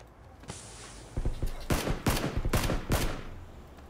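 Gunfire in PUBG: a burst of rapid in-game shots followed by several loud, evenly spaced single cracks, close and sharp, with no talking over them.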